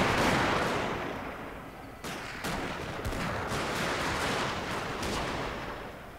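Rapid, crackling musket volleys roar continuously in a Shogun 2: Fall of the Samurai battle, with sharp bursts of shots cutting through a dense battle din.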